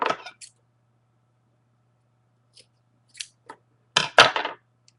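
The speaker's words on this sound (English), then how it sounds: "When you're finished, you will cut a length of about 2 feet." Scissors snipping a length of yarn at the end of a knitting project, a few short crisp cuts at close range with silent gaps between them.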